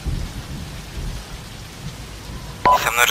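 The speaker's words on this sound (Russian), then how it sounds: "Дождь определенно странный." Steady rain hisses in the military shooter game Arma 2. The even downpour is moderate in level, and a short electronic beep and a brighter burst cut in near the end.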